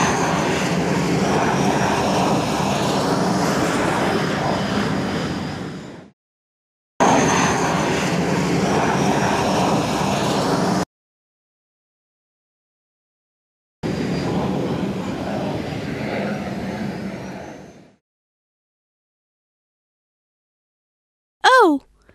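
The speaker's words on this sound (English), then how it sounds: "Airports are places where aeroplanes take off and land." An aeroplane engine roars at an airport in three long, loud stretches separated by silent gaps. A brief rising tonal sweep comes at the end.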